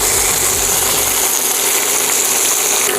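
Loud, steady, dense hiss of bacon slices cut from pork belly hitting a smoking-hot pan, with a low rumble in the first second before it settles into an even sizzle.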